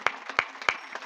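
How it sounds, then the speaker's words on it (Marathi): An audience at a religious discourse on the Shrimad Bhagavat katha claps in a few loud, sharp, evenly spaced bursts, close and crisp, with no talking over it. "वाजवा बरं जोरात टाळ्या एकदा."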